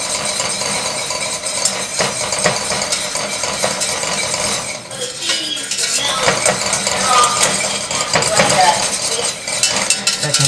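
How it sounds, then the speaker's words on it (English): A whisk scrapes and clinks steadily against a pot while flour is worked into butter for a roux paste, a continuous close metallic rattling with brief voices under it. "just give this to a whisk until you get a nice roux paste"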